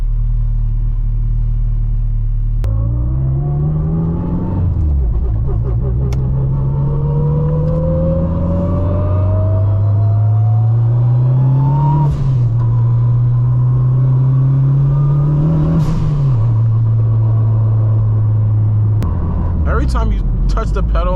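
A turbocharged 600 HP Honda Civic Si accelerates hard from inside the cabin, its engine note climbing loudly through several gears with sharp drops at each shift before pulling up again.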